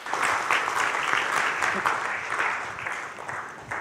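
Sustained, even applause from a conference audience for a Kenyan keynote speaker at an international development cooperation event, a dense steady clatter of many hands lasting throughout and tapering slightly at the end.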